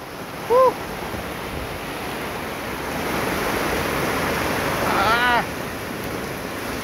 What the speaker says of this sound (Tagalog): Grabe, kaka-nervyos yung bagsak ng ulan. Ang lakas, hindi pa humihinto.